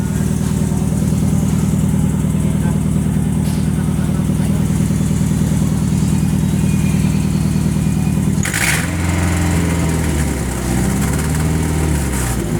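An engine runs at 2000 RPM, a loud, steady, close droning rumble that shifts abruptly to a rougher, changed tone partway through.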